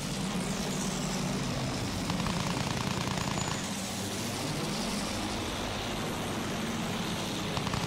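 Enemy aircraft engine in the World War I shooter Battlefield 1, a steady droning roar with rumbling low end, mixed with battlefield noise throughout.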